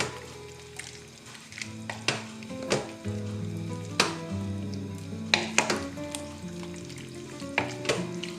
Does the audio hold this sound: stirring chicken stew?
yes